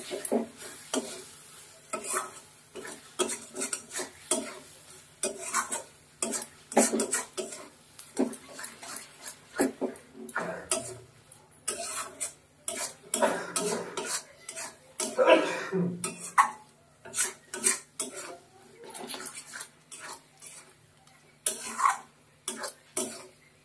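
A spoon stirs coriander leaves into a loite (Bombay duck) fish jhuri in a pan, giving repeated scraping and clinking strokes with a faint sizzle, close and steady throughout.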